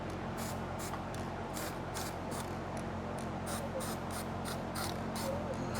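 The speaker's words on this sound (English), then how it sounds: "I'm gonna start by spraying some of the CRC gasket remover on this intake gasket" CRC gasket remover is sprayed from an aerosol can onto the intake gasket of a Flathead Ford engine, about a dozen short hissing bursts in steady rhythm over a constant background hum.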